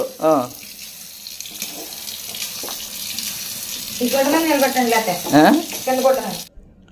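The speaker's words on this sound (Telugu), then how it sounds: "దీనికి స్నానం చేయిద్దాము అని చెప్పి పైపు కింద పెట్టి స్నానం చేయించానండి" Water runs steadily from a pipe over a pet being bathed, a continuous splashing gush with occasional tonal vocal sounds rising above it near the end before it stops abruptly.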